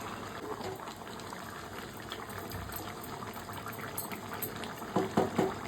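Dal (lentils) boiling in a pot, a close, steady bubbling and burbling that grows louder with a few stronger bursts toward the end, with no talk.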